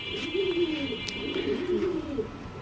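Pigeons in a breeding loft give low, rolling coos that repeat close by for a couple of seconds, with a faint steady whine in the background.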